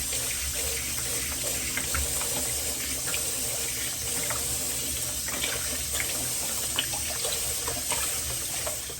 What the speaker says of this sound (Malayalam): ഇതൊന്ന് തിരുമി എല്ലായിടത്തും പറ്റിച്ചിട്ട് നമ്മൾ കൈ കഴുകുക